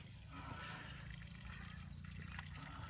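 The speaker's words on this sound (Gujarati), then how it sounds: "આ પાણી નીકળ્યું." Water mixed with petrol draining out of a motorbike's fuel tank, a soft continuous trickle and splash of liquid, faint and steady over a low hum.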